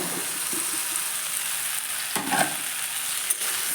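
Mixed vegetables, fried beforehand, are stirred in a pan for a Bengali mixed sobji dish. Steady sizzling runs throughout, with a few scraping stir strokes near the middle and end, close by and alone.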